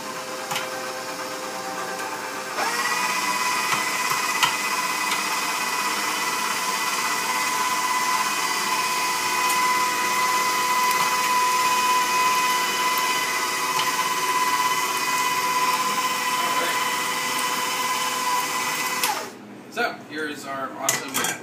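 A meat grinder works through beef heart, a steady loud mechanical whir with metallic rattling that runs continuously for most of the stretch before cutting off near the end, alone without talk.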